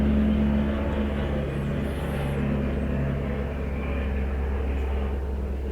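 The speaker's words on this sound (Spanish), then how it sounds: "Otra avioneta." A light propeller plane drones steadily overhead, a continuous low hum holding for several seconds with no voices.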